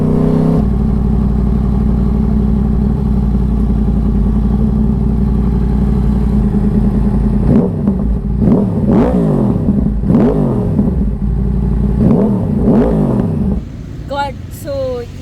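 A Yamaha R1 crossplane superbike is ridden, its engine holding a steady drone before several sharp rising revs and throttle blips, loud and close under steady wind noise.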